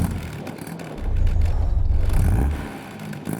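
A car engine fitted with a new exhaust and a larger fuel tank, starting up with a deep bassy rumble that swells for over a second and then settles lower, heard close with no talking.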